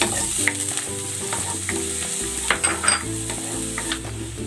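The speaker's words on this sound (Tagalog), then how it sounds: "Igigisa ko na tong bawang." Garlic sautés in hot cooking oil for a noodle soup base, a bright continuous sizzle with repeated metallic scrapes and clinks of a spatula stirring, close and loud, with no speech.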